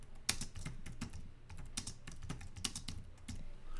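Rapid, irregular keystrokes on a computer keyboard, close and fairly quiet, with sharp clicks clustering in short bursts and no voices.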